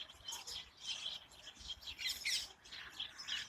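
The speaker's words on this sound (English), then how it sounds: "That's sparrows in our hedge at the allotment." Sparrows in a hedge at an allotment, a dense chatter of overlapping chirps and tweets that rises and falls in bursts over a low outdoor background, with no talking.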